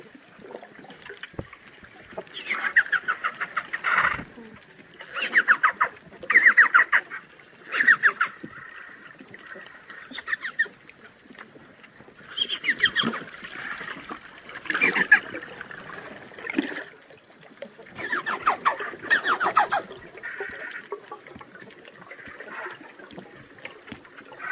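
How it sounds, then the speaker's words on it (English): Pink river dolphin recorded underwater in Brazil, a long series of buzzy, honking pulsed calls in irregular bursts, some rapid and clicky, separated by brief quiet gaps, clear and close with no talk. "and it's the sound of a pink river dolphin"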